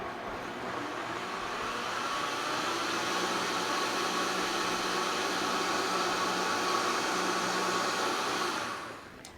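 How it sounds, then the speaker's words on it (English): A kitchen blender runs slowly on a powder mix, giving a steady whirring drone that holds for about nine seconds before winding down. "Let's blend that"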